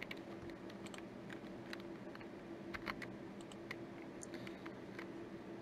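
Computer keyboard typing and clicking with no distinct single Enter press, steady close key taps over a constant background hum, no talk.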